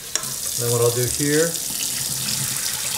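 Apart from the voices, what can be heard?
pouring excess rinse water off rice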